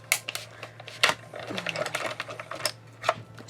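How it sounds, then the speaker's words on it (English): A die cutting machine cuts out a card piece with a series of faint mechanical clicks and clacks over a low steady hum, with scattered handling noises. "I'm going to line that up and then put this on the top, and we will die cut this out."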